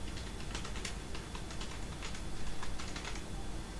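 Someone types on a computer keyboard while filling in an HTML form, producing quick, light clicks in short irregular bursts over a faint steady hum, with no one speaking.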